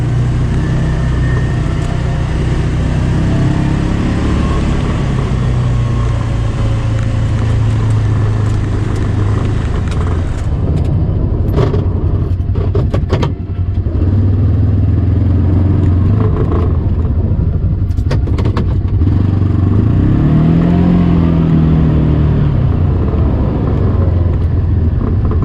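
A Kubota Sidekick 850 utility vehicle with a snow plow blade idles and runs steadily close by, a continuous low engine drone with slight shifts in pitch and a few brief clicks and knocks.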